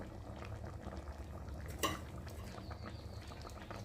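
Covered fish curry with potato and eggplant simmering, a quiet low bubbling and hiss with one brief metallic clink of a lid or utensil, no talking.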